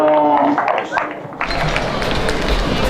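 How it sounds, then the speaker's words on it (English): A crowd applauding a young exhibitor at a county livestock show, a steady wash of clapping that starts abruptly after an announcer's voice and continues to the end. "let's give this young man a nice round of applause"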